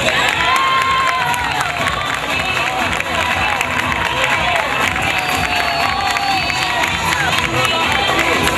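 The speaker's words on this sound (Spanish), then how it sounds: "Fuertes los aplausos." Applause and cheering from an audience for a parish queen candidate at a pageant, a loud, dense wash of clapping with shouts and voices throughout, steady for the whole span.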